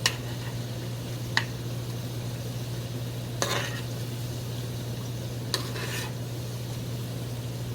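French fries sizzle and fry in oil in a cast iron pan on a small burner, a steady close crackling hiss with a few sharp clicks of stirring or utensil contact.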